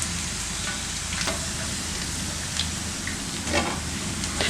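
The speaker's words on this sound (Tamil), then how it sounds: "பன்னீர் இந்த அளவுக்கு பொரிஞ்சிருச்சு, கரையவும் இல்லை" Paneer pieces deep-fry in hot oil, giving a continuous crackling sizzle with small popping bursts scattered throughout, fairly close and without any talk.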